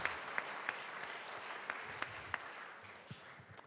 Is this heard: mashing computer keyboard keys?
no